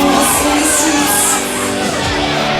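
Loud, dense crowd roar with shouts and whoops greeting a wrestler's entrance at a Target Wrestling show in Whitehaven, sustained and close throughout.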